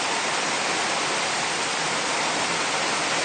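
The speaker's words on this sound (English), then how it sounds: "That's just pouring ass rain with a lot of wind here." Heavy pouring rain in strong wind during a severe thunderstorm at night on a street, a dense, steady, loud broadband hiss with no pauses and no voices.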